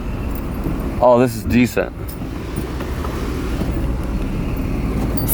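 A car backs up and drives off, engine hum and road noise running steadily under a brief spoken remark near the start, with a light jangle.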